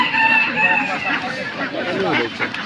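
Native chickens at a poultry market give short clucks and a crowing-like call, fairly close, mixed with background voices of buyers and sellers.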